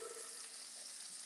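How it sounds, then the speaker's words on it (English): Cod fillet frying in a hot pan of oil, a steady close-up sizzle and crackle with bright spattering that holds level for the whole moment, with no voices over it. "We are frying something."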